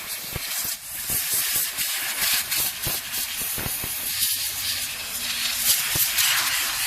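Compressed air sprays in short hissing bursts across the exposed internals of a Nintendo Switch console, steady and close, with no talking.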